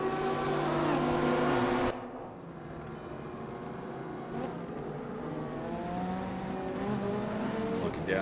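Race car engines roar in a GTR 4 sim racing game at Sachsenring, an Audi and a KTM running side by side; loud droning engine tones that shift pitch, with a sharp drop after two seconds, under a commentator's voice.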